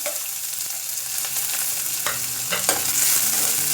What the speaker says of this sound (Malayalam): ജീരകം പൊട്ടിക്കഴിഞ്ഞാൽ നമുക്ക് സവാള ചേർത്ത് കൊടുക്കാം